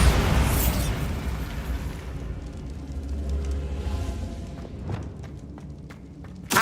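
Bombarda blasting spell going off in Hogwarts Legacy: a loud booming burst up front that rumbles and fades over a couple of seconds, followed by scattered smaller pops and clatters and a sharp hit at the end.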